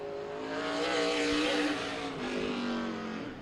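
A race car accelerates out of turn 4 at Meridian Speedway in Idaho, its engine revving loudly and climbing in pitch as it passes close, fading slightly then surging again, with no talk.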